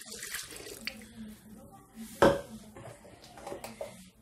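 Milk is poured into a pot for béchamel sauce in a home kitchen. A soft liquid pour and splash sits among light clinks of cookware, with a louder splash near the middle and quiet background noise.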